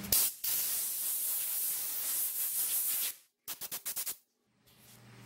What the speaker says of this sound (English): then finish it with some compressed air